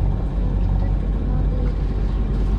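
A boat engine idles after being started, giving an even, droning low rumble heard up close without pause.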